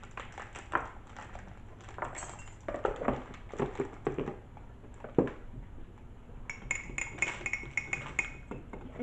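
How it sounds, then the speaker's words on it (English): A spoon stirs mug cake batter with cocoa powder in a mug, giving quiet, irregular clinks and scrapes against the mug over several seconds, close and faint, with no talk. "And give that a good stir."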